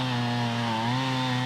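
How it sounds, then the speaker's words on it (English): Several chainsaws running steadily at once, cutting up trees brought down by a tornado along a residential street, a continuous droning buzz with no pauses or talk. "A symphony of chainsaws played up and down Graham Drive, chopping up trees taken down by a twister"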